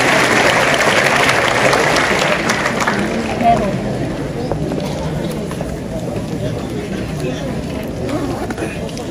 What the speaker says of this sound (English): Ladies and gentlemen, a warm round of applause for Honorable Paraluman R. Hiro.